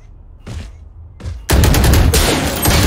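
Gunfire in a multiplayer video game session: two faint bursts, then from about 1.5 seconds a loud, close, sustained crackle of shots filling the rest of the clip.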